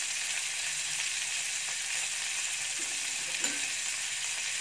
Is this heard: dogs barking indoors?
no